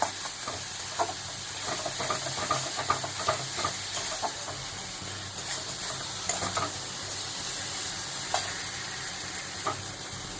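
Onion and poppy seed curry frying in a pan while being stirred, with a steady close sizzle and scattered scraping clicks of the spoon throughout, no voices.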